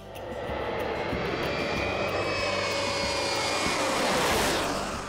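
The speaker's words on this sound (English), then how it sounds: "We're riding in the passenger part of the aircraft, behind the pilots and the flight engineer." A steady, loud jet roar fills the cabin of a Shuttle Training Aircraft in flight, a constant engine drone with a faint rising whine and no voices.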